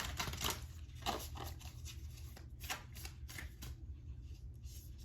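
Reiki healing cards are shuffled and drawn by hand, making soft papery riffles and quick flicks close by at a low overall level.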